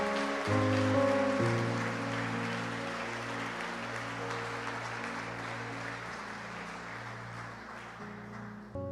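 Church congregation applauding, a broad wash of clapping that starts loud and slowly fades, with sustained organ or keyboard chords underneath.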